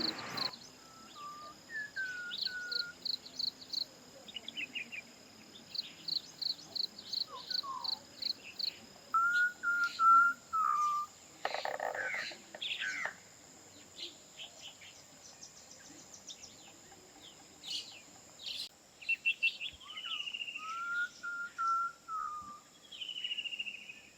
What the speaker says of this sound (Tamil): இந்த அழகான காட்டு சூழல்ல இந்த பறவை இசைக்கு மயங்காதவங்க யாருமே இல்லைங்க.